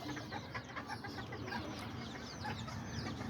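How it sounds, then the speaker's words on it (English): Chickens cluck faintly in the distance over a steady outdoor background hum, with a rooster's soft calls mixed among them, while carne asada is being made. "There's the one rooster right there."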